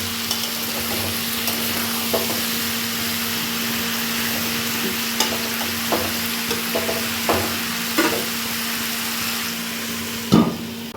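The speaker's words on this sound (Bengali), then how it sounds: "এই যে ফুলকপি আলুর তরকারি ডান, টকবক করে ফুটছে" Cauliflower and potato curry simmers in a pan with a steady, close hiss. Scattered soft pops and clicks run through it, with a sharper knock near the end and no talking.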